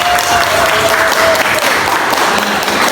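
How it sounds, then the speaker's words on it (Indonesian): Students applauding a classmate in a school classroom, a short burst of loud, close, continuous clapping. "Tepuk tangan buat Ryan"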